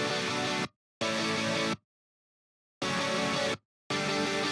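Distorted guitar stabs layered with bright saw synths hit in short, loud chopped bursts, two quick blocks, a gap of silence, then two more, each cut off abruptly.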